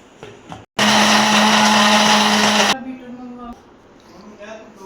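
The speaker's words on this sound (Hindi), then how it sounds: "इसको करेंगे ग्राइंड।" A blender grinds cold coffee with vanilla ice cream in a loud, steady whir lasting about two seconds, then cuts off abruptly, with someone speaking before and after.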